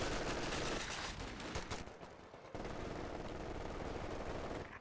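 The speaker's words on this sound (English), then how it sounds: "we see a bit of engagement going here, house to house, as the lieutenant and an MG duke it out" Sustained machine gun fire in a Company of Heroes 2 battle rattles in dense rapid bursts, loud and close at first, dipping briefly, then continuing as an unbroken fusillade to the end.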